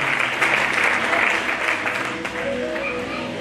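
A church congregation applauds the Lord after a call to acclaim, steady loud clapping from many hands with a faint voice underneath.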